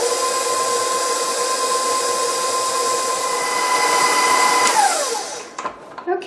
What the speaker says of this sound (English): I'm going to beat it for another 1 minute until it's all incorporated and smooth